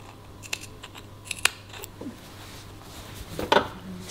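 Scissors make a few sharp, quiet snips through dress fabric close to a stitching line, spaced out with near-silent gaps and a final cluster of cuts.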